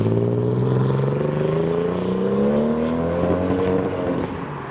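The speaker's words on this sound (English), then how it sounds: "Someone's coming, someone's doing a burnout." A car doing a burnout at a JDM Toyota Supra meet, its engine revving hard with rising and falling harmonic pitch and tire roar, loud and close, tailing off at the end.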